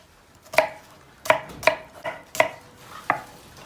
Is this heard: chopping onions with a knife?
yes